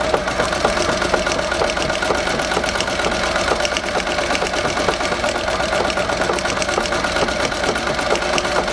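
Singer 201-3 sewing machine driven by a treadle in a parlor cabinet, stitching slowly with a steady rapid mechanical clatter and rhythmic ticking, close and continuous without voices.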